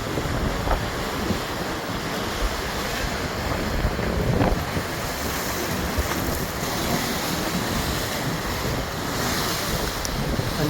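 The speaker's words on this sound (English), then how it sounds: "here's the sea" Sea waves breaking along the shore at St Annes, a steady broadband roar of surf mixed with gusty wind buffeting the microphone, continuous and loud with no speech.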